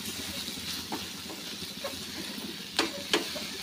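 A vegetable sautés in a pan with red chili powder and turmeric: a steady sizzle under repeated stirring scrapes, with two sharp utensil clinks near the end.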